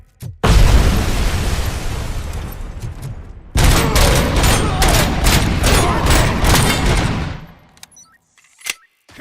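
Heavy gunfire and explosions from RoboCop: Rogue City: a loud sustained barrage of rapid shots and blasts runs for several seconds, breaks briefly, then resumes as a dense fusillade before dying down to scattered pops.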